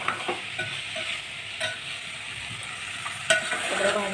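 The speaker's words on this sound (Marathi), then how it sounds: "हे बघा सगळ्या भाज्या मी टाकून घेतल्यात मस्त मिक्स करून घेतलं" Mixed vegetables for masala rice get stirred in a hot pan, a steady sizzle and frying hiss broken by several sharp scraping knocks of the spoon against the pan, close and moderately loud.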